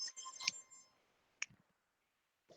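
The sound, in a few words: annoying alarm going off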